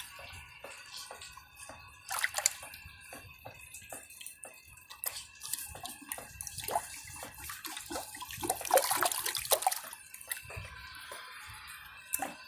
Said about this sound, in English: I guess hand plunging doesn't work too well.